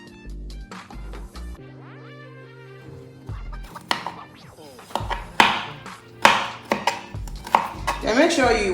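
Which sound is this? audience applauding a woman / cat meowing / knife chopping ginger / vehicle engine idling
knife chopping ginger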